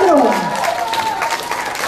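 Audience applause at a deaf sports awards ceremony honoring the sportswoman of the year, a loud, dense wash of clapping from a large crowd filling the hall.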